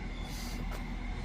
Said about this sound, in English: we have the train now approaching the station